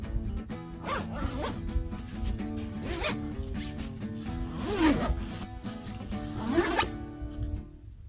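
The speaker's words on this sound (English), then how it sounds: "I have never seen a cot that assembles by zipping a zipper." A long, continuous zipper pull on a camping cot rasps steadily for several seconds, close up, with brief surges as the fabric shifts.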